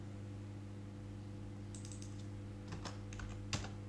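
Fingers type on a computer keyboard to enter resistor values in circuit simulation software, giving faint, scattered key clicks over a steady low electrical hum, with no talk.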